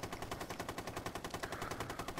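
A machine gun fires in a video game as a rapid, even stream of shots, about ten per second, close and continuous, with no one talking.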